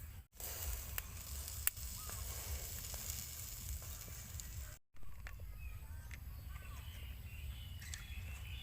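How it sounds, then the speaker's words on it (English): Clams sizzle on a hot grill with a steady, close, moderately loud hiss and occasional faint crackles, broken by two brief moments of quiet. "So now we start to fry our clam. Sorry, grill our clam."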